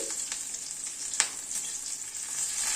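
Garlic, nigella seeds and green chili fry in oil over a lowered gas flame, giving a steady, close, fairly quiet sizzle with one sharp utensil tap in the middle and no talking.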